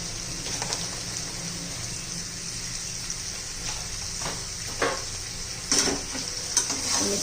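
A village-style capsicum vegetable dish with coarse crushed peanuts and grated coconut being stirred in a pan, giving soft steady sizzling with a few louder scraping stirs near the end, no voices.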